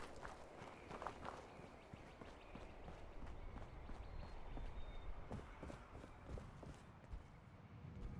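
Footsteps in the video game Fallout 76 patter in a quick, irregular run of soft taps over a faint background, steady and fairly quiet throughout.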